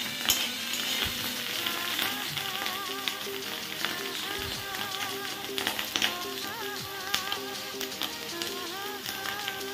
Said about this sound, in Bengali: আলু গুটি করে কেটে নিয়েছি আর ওই যে গাজর একটুখানি কেটে নিয়েছি ওইগুলো ভেজে নিচ্ছি